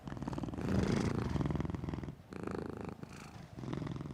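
A cat purrs steadily in the video game Book of Hours, a soft rumbling purr in long close breaths with brief pauses between them.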